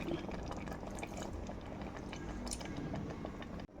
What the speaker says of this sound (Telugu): ఇప్పుడు మిల్క్ కూడా పోసుకోవాలన్నమాట, వాటర్ పోయొద్దు, మిల్క్